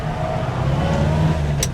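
A Riley One Point Five, a 1950s classic saloon, runs steadily from inside the car as it works up through the gears, with a continuous low engine drone and a brief higher whine near the end.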